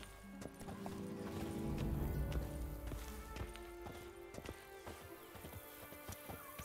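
Roach, Geralt's horse in The Witcher 3: Blood and Wine, clip-clops on hard ground at a Toussaint estate with a rhythmic run of hoof strikes and a whinny, fairly faint over quiet game ambience.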